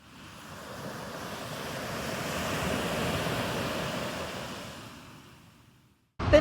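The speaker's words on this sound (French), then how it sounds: "il y a une vague, elle arrive" Ocean waves breaking at a beach in Bali: a single long surge of surf swells, roars through its middle and slowly fades out, with wind rushing across the microphone and a sharp bump at the very end.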